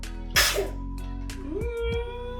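Toddler about one and a half years old sneezing while eating orange porridge, one sharp close sneeze with quiet domestic sounds and a steady hum around it.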